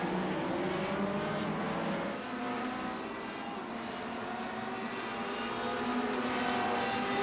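Race cars roar past on the Daytona road course during an ARL Roar Before the 24 event, a continuous engine drone rising and falling at a distance with no voices.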